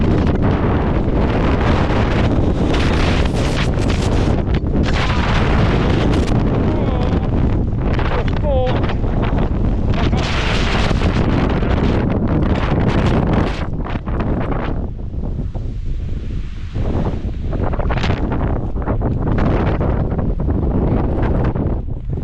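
Storm Agnes wind batters the microphone at Scales Tarn in the Lake District, a loud, constant roar and buffeting that eases only slightly toward the end.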